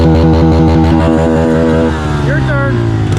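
A Honda CRF110 pit bike with an aftermarket exhaust revs hard and holds at the rev limiter, a loud buzzing, steady drone that bounces against the cutoff, then drops as a voice speaks over the tail end.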